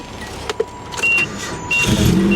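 Engine of a 1989 Nissan D21 Hardbody Z24 pickup cranking and catching, a brief starter whir and clunks settling into a steady close idle with a chime or ding tone over it.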